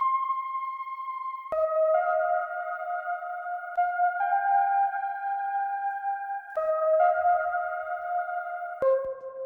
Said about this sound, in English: And then I added a plate reverb, which makes it even more spacey.